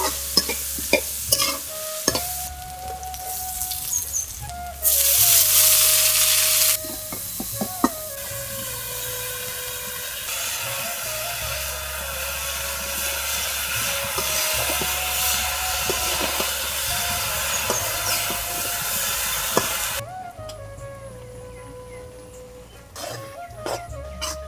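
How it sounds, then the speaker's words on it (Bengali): Taro and shrimp cook in a pan in a village kitchen, with a steady sizzle under repeated scraping strokes of a stirring utensil, close and fairly quiet, with occasional louder hissing bursts. "এখন চিংড়ি মাছ দিয়ে কচু রান্না করবো"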